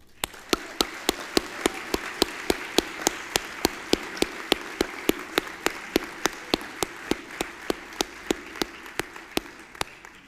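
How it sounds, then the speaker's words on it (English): The audience at a 2023 school graduation ceremony applauds the graduating class. Sharp, evenly spaced claps in unison ring out over a steady bed of crowd applause, continuing at a regular beat throughout. "they all deserve a round of applause"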